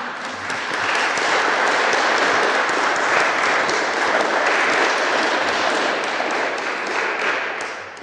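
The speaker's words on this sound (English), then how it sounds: "And I will accept that applause as well." Sustained audience applause fills an evening church-hosted panel on LGBT rights and Christianity after a presentation, loud and dense throughout with many hands clapping together.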